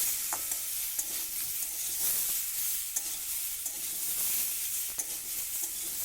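Green mango stirred with turmeric in hot oil, giving a soft, steady sizzle with occasional faint scrapes and taps from stirring, moderately quiet and without talk.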